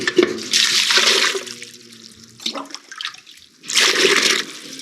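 Water is scooped into a jug inside a cave in two loud, gushing splashes separated by a quieter pause with faint dripping and trickling.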